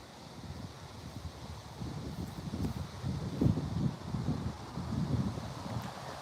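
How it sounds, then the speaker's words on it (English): Wind gusts buffet the microphone outdoors on a morning walk near a park, a low rumbling roar that swells and fades in waves with a rustle of leaves, no talking. "It's kind of windy."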